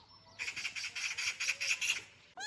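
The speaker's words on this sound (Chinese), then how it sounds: "喜鹊看到的都在报警嘞" Magpies give alarm calls, a rapid series of about nine harsh, chattering bursts in quick succession, clear and fairly close against a quiet background.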